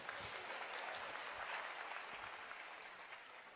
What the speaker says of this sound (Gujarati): ડોક્ટરને તાળીઓથી વધારો